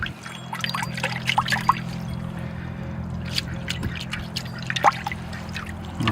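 Water pours and trickles steadily as the roots of a red maple bonsai are washed before pruning, with small splashes and drips over a low steady hum, and no talking.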